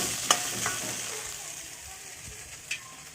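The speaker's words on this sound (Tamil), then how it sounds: "நன்றாக வெந்த பிறகு கலந்து வச்சிருக்கிற அவலை அதில் போட்டு 1 நிமிடம் கிளறினால் போதும்" Aval (poha) upma being stirred in a hot pan: a continuous close sizzle with a couple of sharp clicks from the spoon hitting the pan, no voices.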